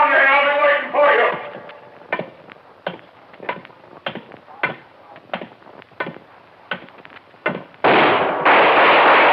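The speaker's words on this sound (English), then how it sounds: "Good shot, Dollar." Gunshots in an old-time radio detective drama: a voice opens the scene, then a rapid run of sharp, loud cracks at uneven intervals, ending in a burst of heavy broadband noise.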